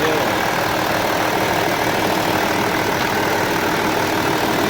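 Skoda Superb mk1 engine idling with no engine management fault showing, a steady, even rumble held close and continuous throughout with no talk over it.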